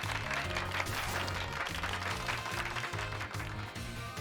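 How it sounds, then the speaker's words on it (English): An audience in an animated Pokémon episode claps for a Pikachu, giving dense, steady applause throughout with a pulsing music-like pattern underneath. "Give Pikachu a round of applause, everybody."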